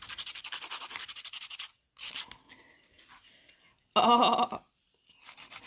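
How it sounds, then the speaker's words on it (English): Filing nails after applying nail forms: quick, rhythmic rasping strokes of a file up close, then pauses and a short exclamation, followed by another brief scratchy burst of filing. "So I've got a little bit of filing to do"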